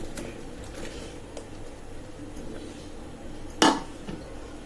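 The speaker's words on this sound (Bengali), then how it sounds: "এবার চারদিক দিয়ে একটু নাড়িয়ে দিব," Shrimp and cucumber curry being stirred in a pot, with soft scraping and a sharp metallic clink near the end over a steady low kitchen background.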